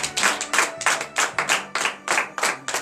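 A church congregation at a morning prayer service in Benin claps together in steady rhythmic bursts, about three claps per second, loud and close with no voices over it.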